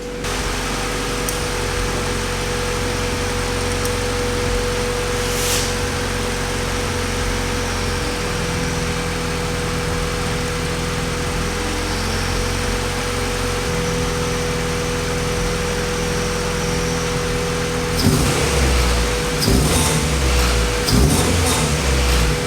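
A Honda CRX engine idles unevenly and runs rough, its steady mechanical drone wavering throughout, with a burst of louder revving and clatter toward the end; no one speaks.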